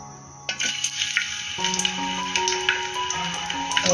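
Garlic cloves drop into hot oil in a pot for a Marathi-style tempering, and a close, steady sizzle erupts half a second in. The bright hiss continues with small crackles and pops throughout.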